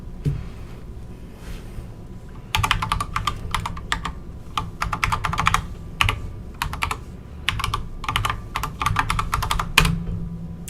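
Someone types a password on a computer keyboard, bursts of quick, close clacking keystrokes in irregular runs with short pauses between them, steady and fairly loud against a low background hum.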